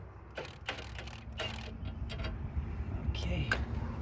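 Ratchet loosening a 17 mm sway bar bolt on a Kia EV6 GT, quick clicking bursts in a quiet garage with a faint hum.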